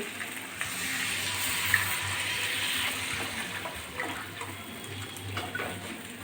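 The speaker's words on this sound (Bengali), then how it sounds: "এবার আমি জল দিয়ে দিচ্ছি" Water poured into a hot pan for a katla fish curry with potatoes and lentil dumplings, a steady broad rushing pour with faint sizzle, continuous and close for the whole stretch, with no talking.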